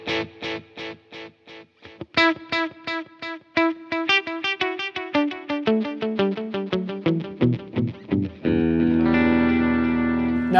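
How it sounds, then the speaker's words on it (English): Electric guitar run through a Fender Mustang Micro's 2290 delay and reverb effect: rapid plucked notes with echoing repeats climb in a quick rhythmic run, then settle into a sustained ringing chord. "the last one is 2290 delay and reverb"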